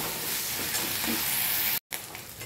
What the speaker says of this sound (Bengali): এবারে আমি আর একটুখানি আদা রসুন পেঁয়াজটা কষতে থাকবো